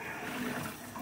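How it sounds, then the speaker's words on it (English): Water drains out of a basin holding pink fuchsia dye rinse from tie-dyed T-shirts, a steady close gushing wash that stays even and unbroken throughout. "Let that little bit of water out."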